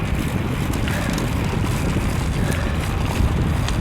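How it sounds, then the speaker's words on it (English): Strong headwind buffets the microphone during a morning bike commute on a 35 mph street, a steady loud low rumble of wind noise throughout with no speech. "I'm gonna hunker down a bit because I'm fighting the wind."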